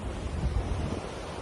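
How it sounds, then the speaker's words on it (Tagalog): Big ocean waves break at a shore, heard as a steady, loud wash of surf with heavy low rumble and wind buffeting the microphone, with no talking. "Ang laki ng alon dito."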